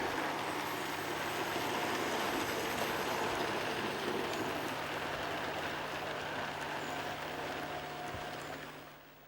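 DCC model trains run on a layout with a steady, close rumble and rattle of wheels on track. A faint hum sits underneath, and the sound fades out at the end with no voices.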